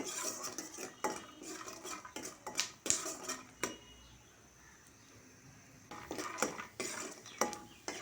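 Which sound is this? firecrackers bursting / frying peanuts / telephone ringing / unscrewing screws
frying peanuts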